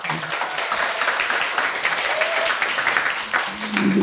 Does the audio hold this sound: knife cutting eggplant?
no